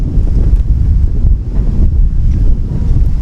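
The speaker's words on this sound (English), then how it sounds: "As the wind really starts to gust up now." Strong gusting wind at an outdoor wood-bat baseball game in Pocatello, buffeting the microphone with a loud, continuous low roar that swells and dips throughout, and no one talks.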